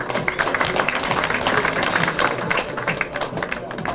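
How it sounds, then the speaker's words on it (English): An audience applauds a performer at a televised show in a dense, steady wash of clapping, with a voice faintly present underneath. "let's give this girl a big round of applause."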